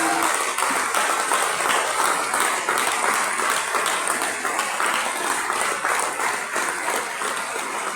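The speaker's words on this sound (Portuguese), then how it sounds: "uma salva de palmas para os homens e mulheres que trabalham neste país" A crowd at a political campaign launch rally in Portugal breaks into loud sustained applause, dense continuous clapping from a large audience filling the hall for the whole stretch.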